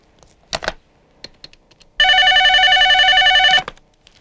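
A telephone ring for a call home, set in a Telugu comedy film scene, sounds as one loud, steady electronic ringing tone of about a second and a half, with a few soft clicks and rustles before it.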